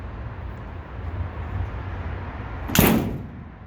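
A broken apartment building door swings shut with a single loud bang near the end, preceded by faint room noise and a low rumble.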